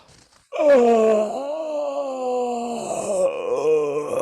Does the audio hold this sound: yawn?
yes